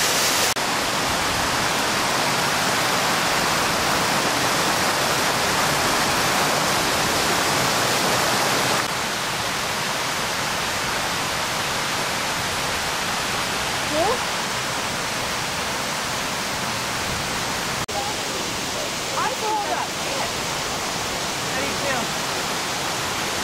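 A brook in the Lake District rushes steadily nearby, a loud, even broadband hiss of flowing water that fills the whole stretch, briefly shifting in tone partway through, with a few faint knocks over it.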